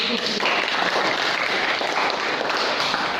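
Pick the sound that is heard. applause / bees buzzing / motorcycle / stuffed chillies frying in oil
applause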